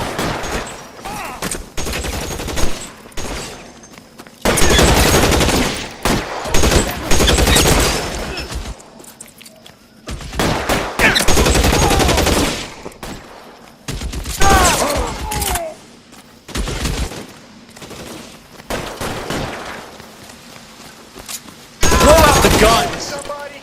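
Gunfire in an L.A. Noire shootout comes in loud, dense bursts separated by short quiet gaps, sharp cracking volleys repeated through the scene, with occasional voices in between.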